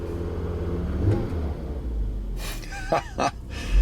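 A car engine revs while a Launch professional scan tool reads pedal position and RPM. A low idle rumble runs throughout, then two or three sharp rev bursts rise near the end.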